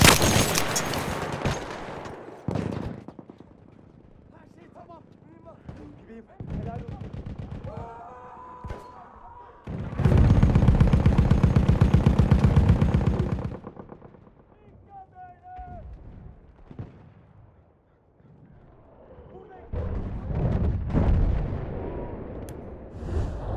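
Machine gun fire rattles through a Battlefield 1 battle on the Achi Baba map: distant bursts and blasts, then a long, loud, sustained stretch of close fire midway, with more gunfire near the end and a voice calling out commands.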